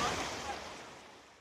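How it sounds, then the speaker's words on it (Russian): River water in Verona flows with a steady broadband rush, close and moderately loud, fading slightly toward the end with no voices over it. "шум воды приятный."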